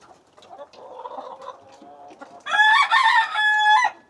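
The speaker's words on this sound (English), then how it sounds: "Oh, Mr. Rooster." A farmyard rooster crows loudly and up close in one full cock-a-doodle-doo. Softer clucking from the chickens comes before it.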